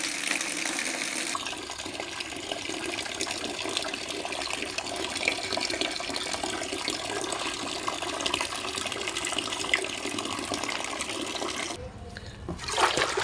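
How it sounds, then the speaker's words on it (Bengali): Water pours steadily into a basin for soaking a broom with detergent, a continuous splashing fill running nearly the whole time before cutting off near the end, close and fairly loud. "চলো এখন জল দিয়ে দিই।"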